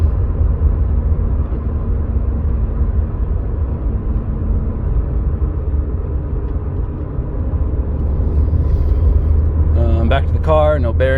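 Interior of a Mercedes W201 190E 16v on the road, a steady low engine and road rumble holding constant throughout, with a brief voice near the end.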